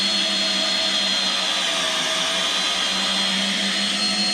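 A HOTO 12-volt cordless brushless drill runs at a constant high-pitched whine while driving a screw, a loud close steady motor drone with no pauses.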